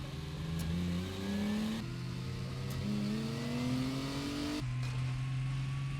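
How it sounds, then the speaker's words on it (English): A car engine in the modded survival game 7 Days To Die revving at full speed, its pitch climbing through three gear-like rises and dropping back, loud and continuous, with no talking. "Fastest car in the game."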